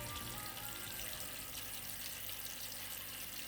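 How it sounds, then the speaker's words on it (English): Nutrient-rich aquarium water trickling down a moss bridge into a large pearl glass in an emersed Bucephalandra tank, a soft, steady, faint stream of flowing water without pause. "Nutrient-rich water flows down the moss into the new large pearl glass"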